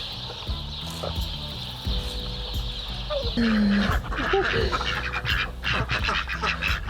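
Ducks call and squawk nearby in a busy, noisy mix, several overlapping honking quacks rising over steady background rumble.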